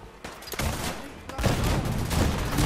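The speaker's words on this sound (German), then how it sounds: "Feuer die Kanonen ab." Ship cannons on the USS Constitution fire in the video game Fallout 4, a loud burst of booming shots in quick succession, close and rumbling, with several blasts overlapping.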